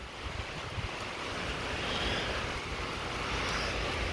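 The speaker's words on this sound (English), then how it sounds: "Ooh, nice wind coming up behind me. So kind of windy out." Wind blows outdoors ahead of a tornado warning, a continuous rushing roar with gusty swells and buffeting on the microphone, fairly loud and steady throughout.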